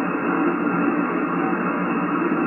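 Radio station received on a Yaesu FTDX101D transceiver with VC tune switched off, a steady, dense band of hiss and noisy signal that holds constant and fairly loud throughout.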